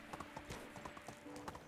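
Donkey hooves clop rhythmically while riding in the video game Medieval Dynasty: quick, steady, evenly spaced footfalls, close and moderately loud, with no talk over them.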